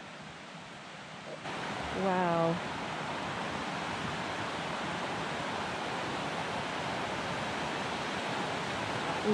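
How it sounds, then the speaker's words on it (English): A river close to a residential area rushes in a steady, loud broadband wash that continues without a break, while one person exclaims briefly near the start. "So we're just now taking our first peek at the river."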